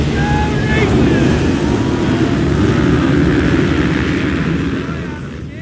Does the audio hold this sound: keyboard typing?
no